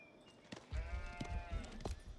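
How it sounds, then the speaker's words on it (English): Sheep bleat repeatedly in the Age of Empires 4 strategy game, several wavering calls spread across a couple of seconds at moderate level, with no talk over them. "Numu, he's up to 18 sheep"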